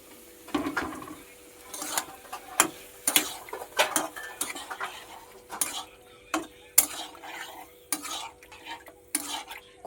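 Ash gourd being stirred into a mustard spice masala in a pan, with repeated scraping and knocking of the spoon against the metal over a faint sizzle, irregular close strokes and no talking.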